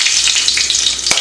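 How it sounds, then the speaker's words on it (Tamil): Curry leaves and fenugreek seeds frying in hot oil for karuveppilai kulambu: a steady, dense crackling sizzle with a brief sharper pop near the end, close and continuous. "கருவேப்பிலையை வறுத்த அதே எண்ணெயில் கொஞ்சம் வெந்தயம் சேர்த்துக்கலாம்"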